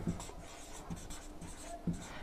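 A pen or chalk writes on paper or a board in short scratchy strokes with small taps, faint and close, over quiet room tone.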